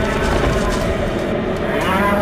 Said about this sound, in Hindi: जैसे ही उसने वीर की तरफ देखा तो चिंघाड़ते हुए वीर पर अटैक कर दिया